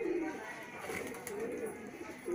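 Male and female high-flying pigeons coo softly in low, rolling murmurs that come and go over a steady background, with a voice faintly present.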